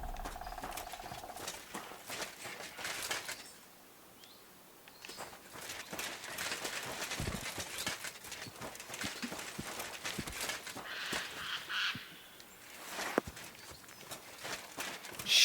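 Horse hooves clip-clop in the video game Kingdom Come Deliverance 2, a busy, rhythmic patter of steps that runs nearly throughout, close and fairly loud, easing briefly before resuming.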